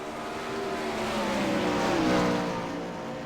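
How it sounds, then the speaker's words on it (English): 410 sprint cars racing on the dirt oval at Kokomo, a loud sustained engine roar with layered high-revving tones swelling and fading slightly as the pack passes, no talking. "Braden Isla keeps the foot in the gas"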